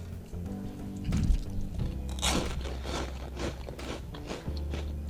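Homemade microwave croutons are bitten and chewed close to the mic, giving a series of loud, dry crunches in quick succession with brief pauses between bites.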